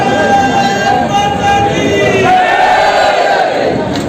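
A large crowd at a Bharatiya Janata Party municipal election rally in Saharanpur loudly shouts a slogan back in unison, a sustained mass roar of many voices filling the space.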